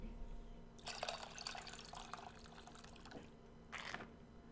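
Tamarind water poured through a sieve into a bowl in the cooking game Venba, a soft trickling splash running for a few seconds with a second brief pour near the end, faint and without talk.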